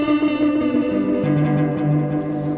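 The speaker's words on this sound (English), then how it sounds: "Here the golden ratio setting sets the repeats for like maximum density buildup." Strymon delay pedal on its golden ratio setting, guitar notes repeating in unevenly spaced echoes that pile up into a dense, sustained wash of tones.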